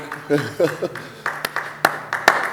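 A church congregation claps in acclaim of the Lord, a few sharp, scattered claps rising over someone speaking, loud and close.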